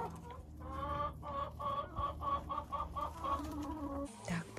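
Hens cluck in a rhythmic run of short calls inside a coop where the birds come and go freely, with a busy background of other fowl and a louder squawk at the end.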